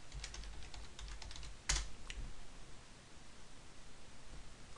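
Quiet typing on a computer keyboard, a short run of light key clicks with one sharper tap, set against a steady background hiss.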